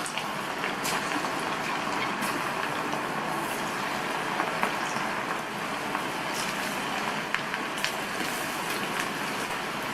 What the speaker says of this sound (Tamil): எண்ணெய் விட்டு நல்லா சூடாயிடுச்சு. கொஞ்சம் கொஞ்சமாக கையில் எடுத்து இந்த மாதிரி பரவலாக போட்டுக்கோங்க.